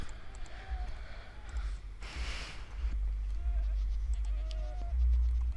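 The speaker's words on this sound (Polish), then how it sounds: "A mnie już denerwują te kozy." Goats bleat repeatedly in a zoo-building video game, short wavering cries scattered over a steady low background hum, moderately loud.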